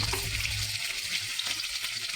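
Fish fries in a pan with a continuous, fairly quiet hiss and crackle of hot oil, fizzing steadily with small bursts and no one talking.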